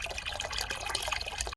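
Grey water running and trickling out of a motorhome's waste tank outlet, a steady close splashing flow with scattered drips that cuts off abruptly near the end.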